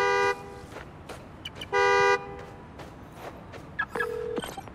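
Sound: car horn honking from key fob, video game Spider-Man: Miles Morales

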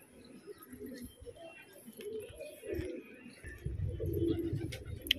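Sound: pigeons

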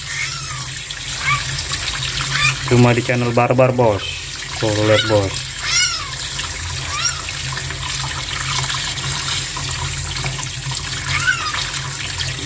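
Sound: tap water running into a sink to bathe a bird

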